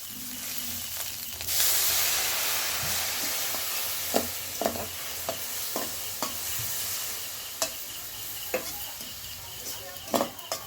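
Fish roe bhorta simmering and sizzling in a pan after water is added, a soft continuous hiss broken by sharp scraping taps of a spoon stirring against the pan.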